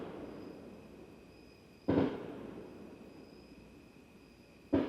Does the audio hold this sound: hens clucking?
no